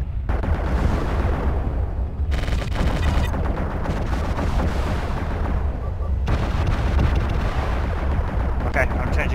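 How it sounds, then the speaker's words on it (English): A sustained barrage of incoming missiles in the MechWarrior Living Legends combat game, with loud, continuous rumbling blasts and dense explosive impacts that build and surge without pause for the whole stretch. "More missiles incoming."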